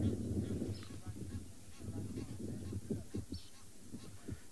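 A flock of geese at the edge of a dam on a wildlife safari gives repeated honking calls, moderately distant and overlapping, over steady outdoor background noise.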